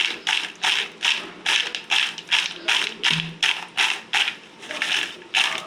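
Homemade rice kurkure tossed with chaat masala and red chilli in a bowl, a dry crunchy rattling repeated in about a dozen even rhythmic bursts, close and alone.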